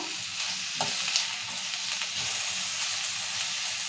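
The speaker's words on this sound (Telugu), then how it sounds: "మిరపకాయలు కొత్తిమీర సొరకాయ పొట్టు ఇవన్నీ వేసినాం కదా మంచిగా నూనెలాగా వేయించుకోవాలి ఇట్లా" Green chillies, coriander and bottle gourd peel fry in oil, giving a steady close sizzle and hiss with a few soft scrapes of stirring, even in loudness throughout, with no talk.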